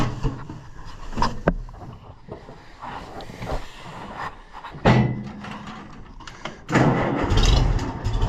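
An engine starts on a cold day and then idles. Loud bursts of cranking and catching come over a rough, rumbling idle, with a few thumps and clatters in between.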